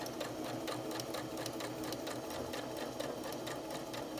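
A sewing machine stitches appliqué in a fast, steady, even chatter of needle strokes, close and moderately quiet, with no talk over it.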